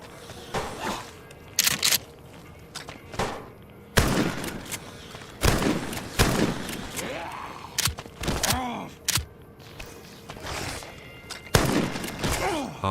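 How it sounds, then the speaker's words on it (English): Shotgun blasts in the video game Fallout D.U.S.T., several loud, sharp booms spaced a second or two apart, mixed with thuds, impacts and a creature's groans. "I need to aim lower so the gun kicks up into the head"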